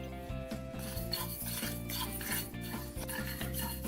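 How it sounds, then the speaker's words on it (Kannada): Sesame seeds roast in a hot pan, with a busy rattle of small crackles and repeated metallic scraping and clinking from stirring, close and fairly loud without talking. "ಈಗ ನೋಡಿದ್ದು ಎಳ್ಳು ಸಿಡಿತಾ ಇದೆ, ಚೆನ್ನಾಗಿ ರೆಡಿಯಾಗಿದೆ."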